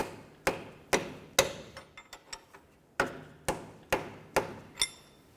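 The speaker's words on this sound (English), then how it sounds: "I'll give it a couple loving bonks with my rubber mallet along the wrench here" A rubber mallet taps a wrench on the axle of a 2005-2012 Volvo S40, about a dozen close, dull knocks in an uneven rhythm with a few lighter taps between them and no talk.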